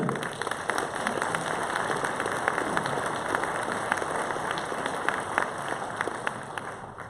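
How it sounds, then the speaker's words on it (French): An audience at a public presentation on mobility in Leysin applauds steadily, with dense, continuous clapping from a crowd heard from moderately far throughout. "Pour la suite, vous pouvez les applaudir."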